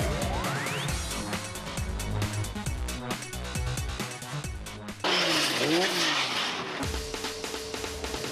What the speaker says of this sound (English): when the tyres on Dermot Carnegie's car decide to get together with the tyres which make up the barrier